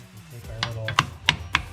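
A tool taps a Volkswagen rear axle seal cover to knock it loose, four sharp light metallic taps spaced about a third of a second apart, close up, with a voice speaking underneath.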